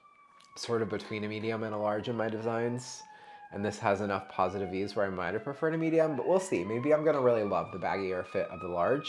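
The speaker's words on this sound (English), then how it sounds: "Sorry for the sirens. Nothing I can do about it." Emergency vehicle sirens wail faintly outside a home near a police and fire station, slow rising tones sustained behind someone talking steadily up close.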